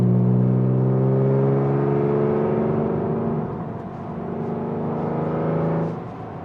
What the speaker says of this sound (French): Et là, on a vraiment le bruit pur d'une Porsche 911.